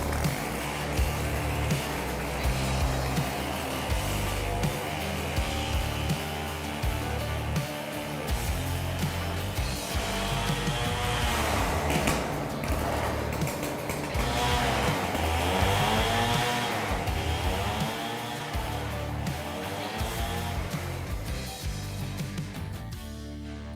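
Soviet-made chainsaw fed nitrous, screaming continuously at high revs in a dense, loud engine roar with wavering pitch throughout, no voices.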